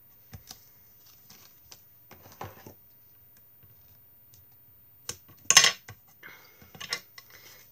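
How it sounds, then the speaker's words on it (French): Tools and a scored card being worked on a hard craft cutting plate, producing scattered taps, scrapes and clicks with a louder, harsh burst of scraping partway through, close and otherwise quiet. "Excusez-moi pour le bruit, je me sers rarement de cette plaque pour faire les vidéos"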